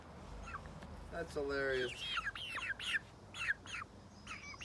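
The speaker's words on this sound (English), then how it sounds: "Look at those birds." Backyard chickens perched on chairs give short clucks and squawky calls close by, mixed with a laughing remark from a person.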